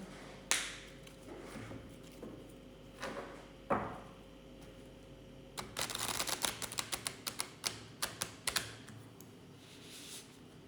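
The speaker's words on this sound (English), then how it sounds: "Okay, let's do another shuffle." After a few isolated soft clicks, a rapid run of crisp flicking taps rattles out close by, then slows to several sharp snaps.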